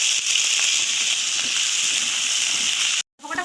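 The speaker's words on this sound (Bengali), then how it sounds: "তেল গরম হয়ে গেছে, আলুগুলো ভাজবো।" Potatoes frying in hot oil in a home kitchen, a loud steady hiss and sizzle that runs unbroken for about three seconds, cuts out briefly, then resumes.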